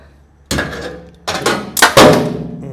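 A metal clamp dropped into a lathe tool rack, making three sharp clanking impacts in quick succession, close and loud with short metallic ringing after each.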